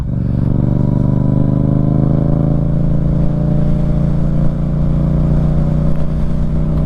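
2024 Yamaha MT-07 motorcycle on the road, its engine droning loudly and steadily with rising revs and shifts up through the gears, the note close and continuous throughout.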